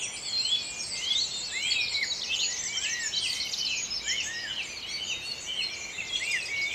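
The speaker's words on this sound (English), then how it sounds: "you hear these birds so far away compared to the intensity of the birds just beside you in the forest garden" Dawn chorus in a forest garden: many birds singing and chirping at once, distant calls mixed with nearer, brighter chirps in a steady, dense layer throughout.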